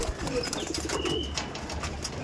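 A chhapka tournament pigeon coos softly in short, low, throaty bursts, close by with light background noise and no voices.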